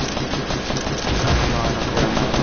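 Rapid-fire gunfire rattles continuously in a battle royale shooter match, a dense, steady stream of loud shots with no pauses across the short stretch.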